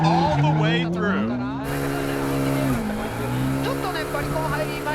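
A drift car slides through a corner at a huge angle at the 2010 D1SL All Japan Championship at Nikko. Its engine tone rises and bends and the tires squeal continuously beneath a commentator's voice.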